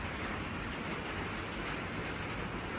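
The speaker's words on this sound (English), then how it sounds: "I'll get out of the rain now" Steady rain falls on a backyard garden as a dense, even hiss with no breaks, moderately loud and close, with no voices.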